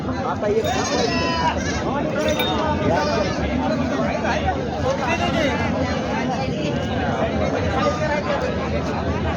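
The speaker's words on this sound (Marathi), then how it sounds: "पिलेवाली शेळीची पिले आहेत हे पाहू शकता तुम्ही" Goats and young kids bleat repeatedly at a busy open-air goat market in Parbhani, Maharashtra, their cries overlapping amid constant crowd chatter and people talking nearby.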